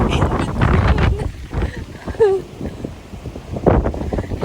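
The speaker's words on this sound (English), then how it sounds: "But it's so windy coming from the west." Strong westerly wind on the Lake Erie shore gusts and buffets loudly against the microphone, with a person speaking over the rushing noise.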